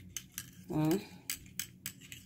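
Spoon stirring and mixing a homemade vitamin C and glutathione facial serum, with several light metallic clinks and scrapes against the container, close and fairly quiet, plus one brief louder tonal scrape in the middle.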